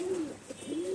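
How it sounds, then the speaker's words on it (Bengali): Male pigeons in a loft coo in low, repeated rolling calls, two or three phrases close by over a faint background hum. "সবই নর পায়রা আছে"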